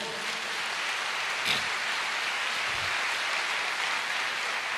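A church congregation applauds, producing a dense, even wash of clapping that holds steady throughout and sounds like rain.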